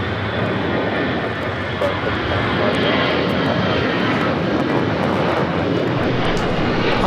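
An airliner powering up for takeoff on runway 25 right at LAX, a loud, sustained engine roar heard continuously at close range, with no talk over it.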